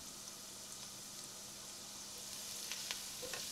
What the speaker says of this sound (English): Heat some oil in a pot. Add the ginger, garlic